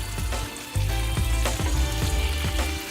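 A steak sizzles steadily in a hot pan just after being flipped, a continuous crackling fry with small pops and a slight scrape, close and fairly loud.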